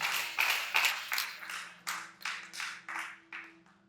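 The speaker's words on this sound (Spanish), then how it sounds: "dale un fuerte aplauso al Señor" A church congregation claps in a reverberant hall, a run of roughly ten evenly spaced, echoing claps that fade toward the end.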